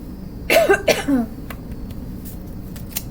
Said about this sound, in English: I just got an urge to cough.